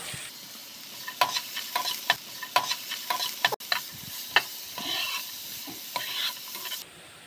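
Onion and carrot with a pinch of salt are sautéed in a pan: a steady low sizzle runs under repeated sharp scrapes and taps of a spatula against the pan, with no talking.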